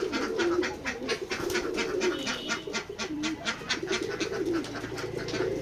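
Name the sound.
pigeons cooing on a pigeon farm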